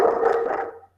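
A dog barks once outdoors, beyond a window near an indoor online lecture, a single muffled bark that fades out quickly.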